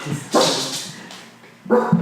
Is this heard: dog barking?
yes